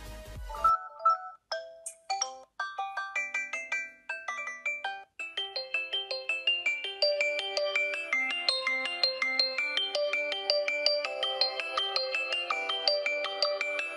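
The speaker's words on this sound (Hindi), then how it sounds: "चलिए देखते हैं इस फोन की रिंग्स में इसकी वॉइस कैसी आती है।" A Xiaomi Redmi Y1 smartphone ringtone plays alone after a brief opening blip: a bright, steady melodic sequence of chiming electronic notes that builds into a denser, rhythmic tune, clear and close, with no talking.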